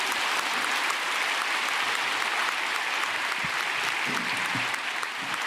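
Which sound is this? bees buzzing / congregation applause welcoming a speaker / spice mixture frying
congregation applause welcoming a speaker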